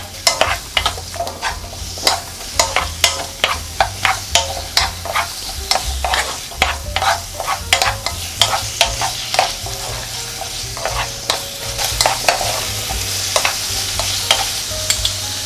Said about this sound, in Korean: 마늘 향이 올라오면 무 잘라놓은 것 먼저 볶아주겠어요.